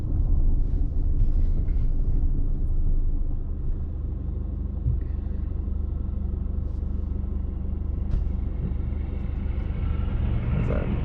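A big truck hauling a load rumbles past a car pulled over on a dusty road near Highway 101 in Olympic National Forest, a steady heavy roar that stays loud throughout, with faint talking inside the car.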